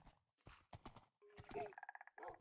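Minecraft horse noises: short game-sound snorts and whinny-like calls in quick bursts, with a fast run of clip-clop hoof steps, fairly close and clean.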